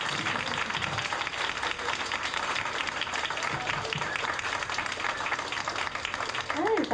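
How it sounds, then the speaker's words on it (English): Steady, enthusiastic round of applause from an audience at an art bar science talk about radio telescopes, continuous clapping at even loudness throughout, with a few crowd sounds mixed in. "Give her a round of applause."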